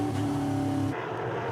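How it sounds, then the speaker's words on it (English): On-board engine roar of a 5.7 litre, 400 hp NASCAR race car at the Czech NASCAR Grand Prix, a steady loud drone under throttle that drops in pitch near the end. "Gently applying the throttle to the"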